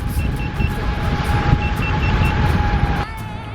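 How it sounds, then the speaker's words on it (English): A Begode Master electric unicycle's speed-warning beeper sounds short, high, repeated beeps, faint beneath a heavy roar of wind and road rush while riding fast. "the beeper, they must have changed the location or made it louder because I can actually hear it when I'm going fast"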